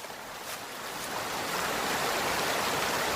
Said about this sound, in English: The waterfalls are a really pretty spot.